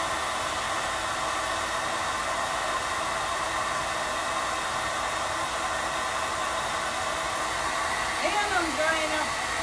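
A hair dryer blows a continuous, loud, even airflow over wet flour throughout, with faint knocking and handling sounds toward the end and no talking.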